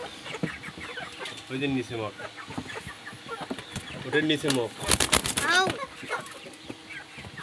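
Sonali chickens cluck and squawk in a loud, busy flock as they rush to feed at close range, with a voice speaking briefly over the noise.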